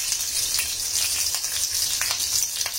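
Mustard seeds, cumin and upright green chillies sizzling in hot oil in a kadhai, a steady bright frying hiss with small crackles and pops scattered through it.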